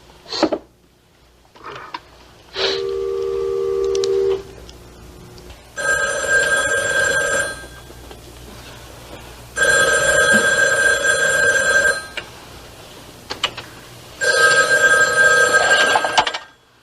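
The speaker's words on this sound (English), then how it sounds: "They're ringing TJ's room." A telephone bell rings in three long bursts separated by pauses, close and loud, with a few short clicks beforehand.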